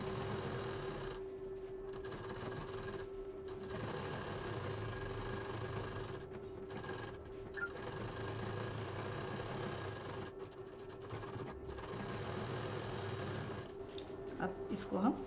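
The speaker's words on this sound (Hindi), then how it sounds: "यहाँ से डबल मशीन देते हुए इसको पूरा इस तरह से डिज़ाइन देते हुए यहाँ तक डबल मशीन चला देंगे।" A sewing machine double-stitches the lining of a beaded party purse, producing a steady, even mechanical hum with brief pauses between runs, heard close up beneath a person talking.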